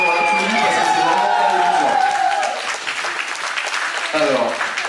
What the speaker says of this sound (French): Bravo, on va applaudir